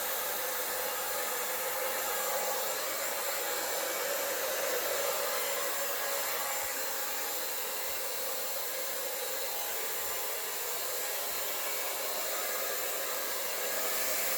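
A hair dryer blows air over acrylic pour paint in a steady, loud whooshing rush that holds unbroken for the whole stretch, with no voices.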